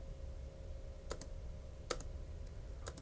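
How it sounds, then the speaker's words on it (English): Three quiet, separate taps on a computer keyboard's space bar, sharp clicks spaced about a second apart over faint room hum, with no talking. "I'm just tapping the space bar on my computer."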